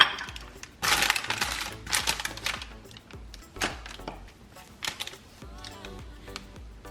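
A knife cutting a Paula Deen gooey butter cake into pieces in its pan, heard as sharp taps and scraping bursts of varying strength up close, with brief faint talk.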